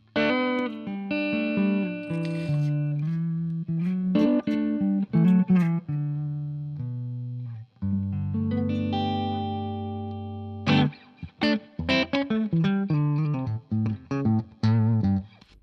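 A PRS electric guitar plays distorted notes and chords, some long sustained tones ringing out, then a run of quick picked phrases.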